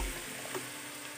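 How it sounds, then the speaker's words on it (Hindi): Garlic-ginger paste and tomato paste fry in hot oil in a pan, giving a steady, dense sizzle that stays loud and even throughout, with no voices over it. "यहाँ दूसरे पैन में हमने ऑयल डाला है और इसमें डाल रहे हैं 2 टेबलस्पून लहसुन अदरक का पेस्ट"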